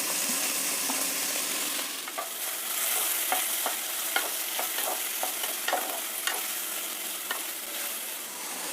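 Moong dal being stirred and fried in a pan, with a soft steady sizzle under a series of sharp scraping and clinking stirring strokes at an uneven rhythm. No one speaks.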